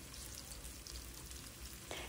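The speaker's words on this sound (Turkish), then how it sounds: "Soğanlarımı ekliyorum. Yumuşayıncaya kadar kavuruyorum." Onions sautéing in olive oil in a pan for a purslane dish, a steady close crackling sizzle with soft stirring clicks throughout, no voices.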